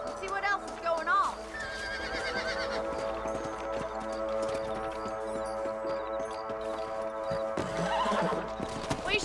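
Horses in the Red Dead Redemption video game neigh loudly near the start and again near the end, with steady hoof clip-clops throughout over a sustained musical score.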